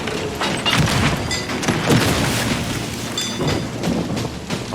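Firebomb explosion aboard a ship in the Sea of Thieves video game, a loud rumbling burst amid crackling fire, creaking hull and rushing wind, sustained and dense throughout with no speech.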